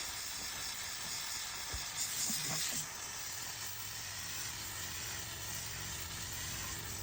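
A steam cleaning machine's wand hisses steadily against a barbecue grill, a constant broadband rush of steam with a brief louder burst partway through, close and continuous.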